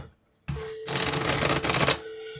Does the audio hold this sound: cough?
no